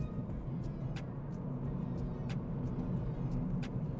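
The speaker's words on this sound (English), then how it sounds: "It's driving through the gears nicely." A Ford Fiesta engine hums from inside the cabin, rising and settling as it moves through the gears, with faint clicks over the steady drone.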